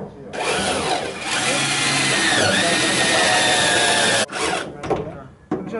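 A power drill drives screws into parts on a 1969 Kombi van, whirring loud and steady for about four seconds, then stopping before short bursts of rattling handling.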